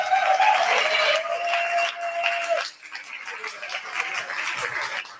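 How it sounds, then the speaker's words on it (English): Wedding reception guests applauding for the newlyweds, a broad wash of clapping that swells and then thins out, fairly close and steady across the room. "Round of applause, please,"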